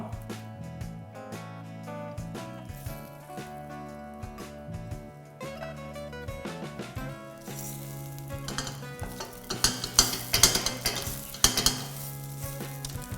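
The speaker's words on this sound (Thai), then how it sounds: "ผัดจนหอมก่อน" Ham and shiitake mushrooms stir-fried for Hong Kong noodles, a soft sizzle with scraping tosses growing busier and louder toward the end, under background music.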